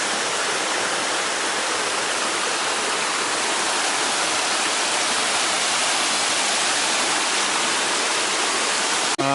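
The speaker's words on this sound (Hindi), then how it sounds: "ये देखिए वाटरफॉल जिसके तलाश में आए हैं इतनी मेहनत" A waterfall in Pithoragarh roars as a constant, dense wash of rushing water, loud and close, with no change in level from start to finish.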